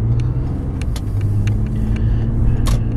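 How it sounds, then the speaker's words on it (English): A 2017 Toyota Highlander XLE AWD SUV drives along a California road, giving a steady, loud low engine and road rumble with tyre noise throughout and no break. "see how the vehicle performs on the typical California road"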